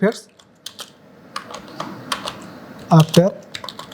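Fingers tap a computer keyboard while typing a prompt into ChatGPT, a quick irregular run of close, light clicks, with a short burst of speech partway through.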